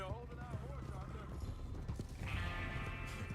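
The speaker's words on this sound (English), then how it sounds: "Get a hold of that horse, Arthur." Horse hooves clip-clop in the video game Red Dead Redemption 2, a steady trotting rhythm running under music and speech that come and go.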